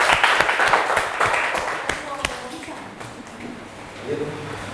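A class of children claps hands at the end of a school group presentation, with uneven, loud clapping at first that thins to scattered claps, while voices talk and chatter over it.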